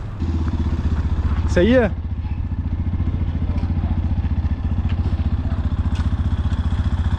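A motorcycle engine runs steadily during a test ride, a close, even putter throughout, with a short voice exchange over it early on.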